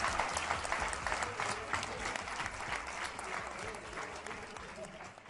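Steady applause from a crowd honoring a football player, dense continuous clapping with voices talking over it throughout.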